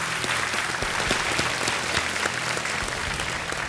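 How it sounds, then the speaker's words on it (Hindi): Studio audience applause welcoming a contestant on a quiz show, a steady even roar of many hands clapping with no voices over it. "तालियों के साथ एक बार आपका स्वागत कर रहे हैं"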